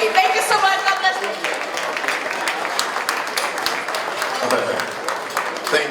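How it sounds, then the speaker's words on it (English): Applause from an audience at an inaugural lecture, a steady wash of many hands clapping at moderate loudness throughout, with no clear voice on top. "I think we can give her a better round of applause"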